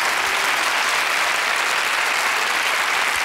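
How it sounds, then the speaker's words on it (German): A TV studio audience applauds, a loud, dense, even wash of clapping from many hands that stays constant for several seconds without a break. "Kleiner Applaus für die junge Frau"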